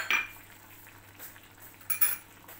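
A spoon stirs paneer butter masala in a pan, making a few distinct metallic clinks and scrapes against a quiet background with a low hum.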